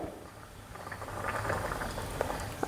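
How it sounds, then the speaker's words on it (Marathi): South Indian sambar bubbles at a vigorous rolling boil in a pot, a soft, close gurgling and popping patter that carries on steadily without voices. "हे बघा आता सांबार एकदम खळखळ उकळलेला आहे असा उकळून द्यायचा आहे"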